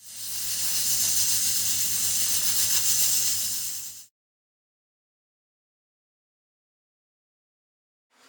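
Pressure cooker with its rocker on, cooking beef brisket on high, gives a loud, steady steam hiss for about four seconds, then cuts off into silence before a brief return at the very end.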